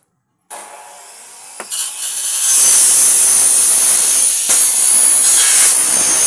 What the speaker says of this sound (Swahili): Tunatoboa tundu kwa ajili ya kufunga loki yetu.